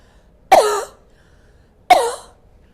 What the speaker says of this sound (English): I'm going to cough in it 3 deep times